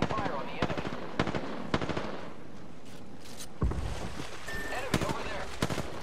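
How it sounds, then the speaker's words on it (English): Video game gunfire during a squad battle, sharp repeated shots in short bursts and single cracks over a constant wind-like rush, with a voice talking in the background. "Opening fire on the enemy."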